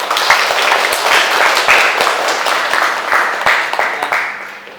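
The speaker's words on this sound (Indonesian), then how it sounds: "Tepuk tangan buat Nabila." A classroom of students claps for a classmate in a lively burst of many hands, loud and close, with individual sharp claps standing out, fading toward the end.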